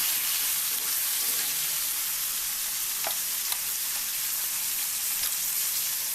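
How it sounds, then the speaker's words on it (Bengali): Small cut pieces of chicken fry in a pan for a tomato chicken curry, giving a steady, close, continuous sizzle with a few faint clicks and stirs over it and no talking. "আমি মাংসগুলো দিয়ে দিচ্ছি ছোটো ছোটো করে পিস করে কাটা একটু ভেজে ভেজে নেব"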